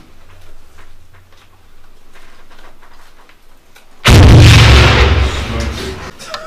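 A frag grenade bursts during military training, a sudden loud blast that cuts in after a stretch of low background activity and rolls on as a heavy, sustained rumble before fading.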